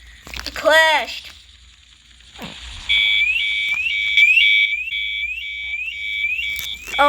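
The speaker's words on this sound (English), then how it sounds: "Oh god, the alarm." A repeating two-tone alarm in an airplane physics video game beeps steadily after a crash, loud and continuous, following earlier whooping effects and under an excited speaking voice.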